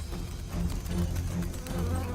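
Carnivorous wasps flying about, a continuous near buzzing hum of beating wings that pulses gently as insects pass close by.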